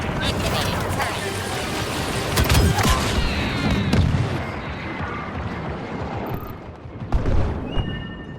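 A turret fires in the video game Star Wars Battlefront II: repeated heavy booming blasts over dense battle noise, with voices heard in the mix.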